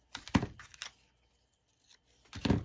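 Paper for a scrappy cluster craft is cut and torn in a few short, close crisp bursts separated by a quiet gap, with no talking.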